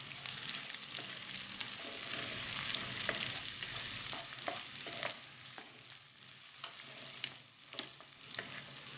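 Onions fry in a pan for bagoong alamang shrimp paste, a steady close sizzle broken by repeated scrapes and light clicks of a spoon stirring, with no voices.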